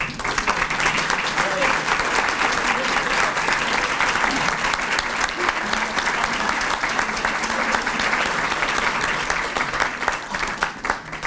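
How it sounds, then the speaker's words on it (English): Sustained, loud applause from a standing crowd of members at a hall of fame dinner in Derby, steady and dense throughout without a break. "I'd ask you to stand up, all the members, for a round of applause"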